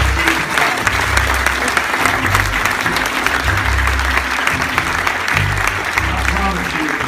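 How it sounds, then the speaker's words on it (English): An audience claps hands in praise at a church-style MLK Jr event, loud, dense applause filling the room without a break, with crowd voices mixed in. "give the Lord a big hand clap of praise."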